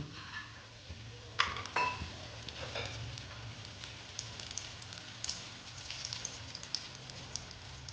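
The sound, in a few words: lentil badi frying in hot oil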